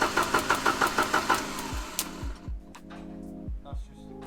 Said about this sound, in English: I'll turn it over a little bit just to get the oil around the engine